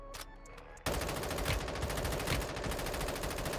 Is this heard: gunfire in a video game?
yes